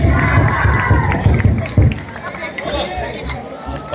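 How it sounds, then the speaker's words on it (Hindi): At a political rally in Delhi, a dense crowd cheers and shouts with a noisy babble of voices, loud and continuous, with bursts of cheering rising above the hubbub. "एक बार जोर से हाथ उठा के जोरदार तालियों से सचिन भाई का स्वागत करें"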